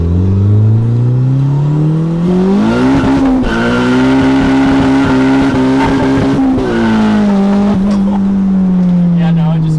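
A car with a Valvetronic Designs exhaust launches hard in first gear with wheelspin. The close, loud engine climbs in pitch and holds under heavy throttle while the tires squeal, then the revs ease near the end.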